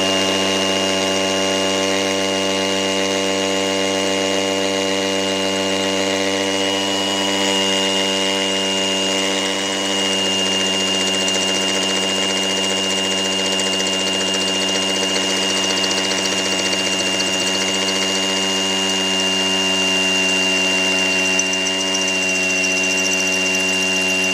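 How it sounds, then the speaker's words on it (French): An AEG BSB18C2BL cordless hammer drill runs continuously in percussion mode with an 8 mm bit boring into a cinder block, giving a steady, loud, tonal whine and buzz that holds for the whole stretch. "il faut activer la fonction percussion ici pour réaliser le perçage. Et je suis sur un forêt de 8 mm de diamètre."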